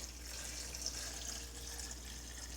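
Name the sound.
cold brew coffee liquor poured through a funnel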